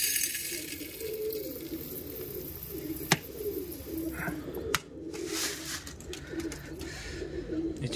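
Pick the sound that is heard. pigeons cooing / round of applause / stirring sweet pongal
pigeons cooing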